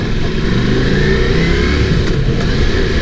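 A Ducati Multistrada V4S, a 170 hp adventure motorcycle, roars with a loud, continuous engine drone while being ridden in the rain. The sound is close and steady throughout, with no talk over it.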